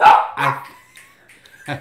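Several dogs bark in short bursts, two quick barks up front and another near the end, fairly close and loud, with a speaking voice sounding in the gap between them.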